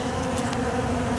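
Honey bees buzzing inside an open hive during a late-December inspection, a steady close hum that never lets up, with no voices over it.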